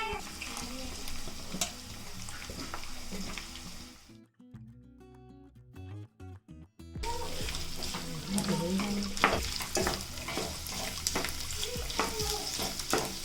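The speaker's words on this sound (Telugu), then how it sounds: "ఈ ఆలు కూడా అయితే వేస్తాను ఇప్పుడు తాలింపులోకి." Fried potatoes tossed into a tempering in a pan produce a crackling sizzle with stirring clatter, dropping to near silence for a few seconds midway before the sizzle and scraping return even louder.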